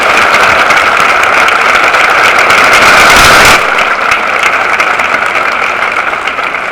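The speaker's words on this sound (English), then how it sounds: "So can we have a round of applause for PJ Gatch?" Crowd applause for a percussion instructor at a school band's winter concert fills the hall, a dense, loud wash of clapping that swells around the middle and tapers slightly toward the end.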